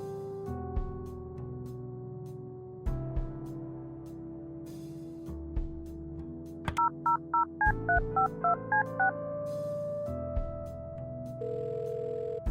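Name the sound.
telephone dialing a motel in the video game Kathy Rain 2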